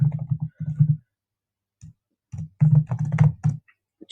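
Typing on a computer keyboard, short bursts of quick clicking keystrokes separated by brief pauses, close and clear with no talk.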